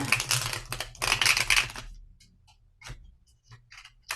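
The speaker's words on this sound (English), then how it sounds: "riffle shuffle." Rapid crisp fluttering bursts of tarot cards being riffle shuffled, two dense runs close by followed by a few softer scattered clicks.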